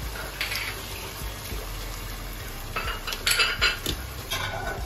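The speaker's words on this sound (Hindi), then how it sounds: "हम सारे मसालों को अच्छे से मिक्स कर लेंगे।" A spoon clinks and scrapes in a pan as powdered spices are mixed into softened tomatoes for soya keema, with light metallic knocks over a steady background hiss and no speech.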